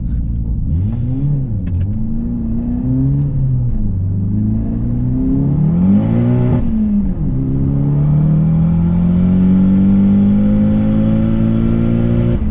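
A turbocharged Hyundai running 24 pounds of boost accelerates hard through second and third gear, its engine note climbing loud and close, dropping at the shift and rising again with a steady whir.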